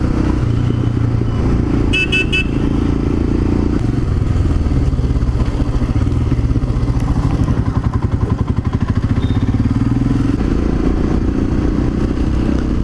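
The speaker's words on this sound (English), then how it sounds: "this bike revs like no other Royal Enfield I've ever ridden" A Royal Enfield Himalayan motorcycle engine runs loud and close, its pitch climbing and falling as it revs, with a couple of short horn toots early on.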